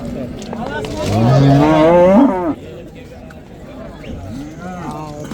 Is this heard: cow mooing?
yes